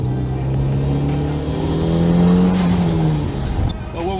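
Audi engine accelerating hard up close, its note climbing through the revs then easing off, loud and throaty with no talk over it.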